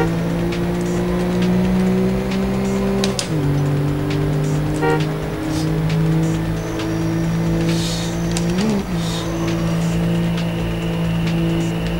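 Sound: car taking off in Need for Speed: High Stakes video game

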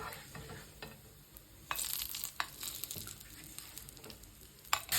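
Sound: onion frying in pork fat

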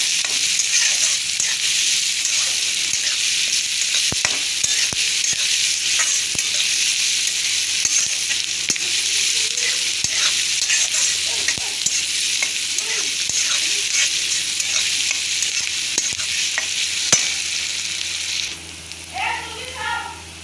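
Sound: onion frying in a pan

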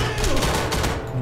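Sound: gunfire from a gun in the video game Enemy Front

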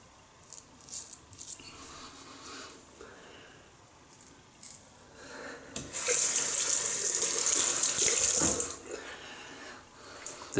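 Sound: rinsing razor under running tap

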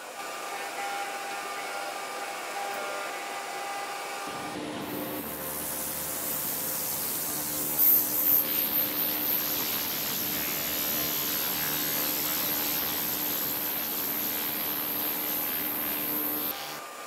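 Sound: ultrasonic cleaning tank with magnetostrictive transducer

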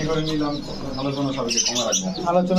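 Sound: diamond pigeons cooing in a bird market

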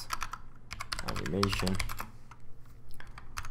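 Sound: typing on a computer keyboard

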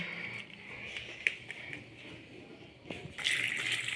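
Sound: water poured into cooker for cooking jackfruit

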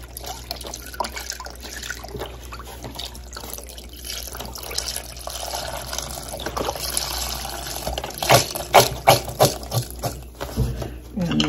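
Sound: chicken broth being poured into a pot

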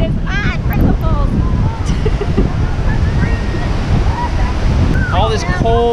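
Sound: strong wind and mist at Yosemite Falls

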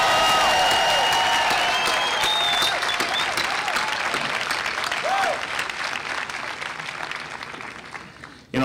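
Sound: applause

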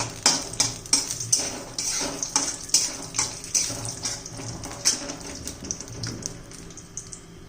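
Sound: roasting coconut in oil in wok

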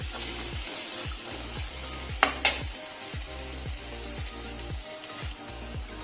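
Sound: peas and yogurt frying in masala

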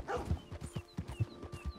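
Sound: dog barking in video game Red Dead Redemption 2

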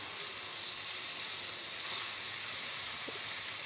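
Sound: garlic clove frying in onion-flavoured oil

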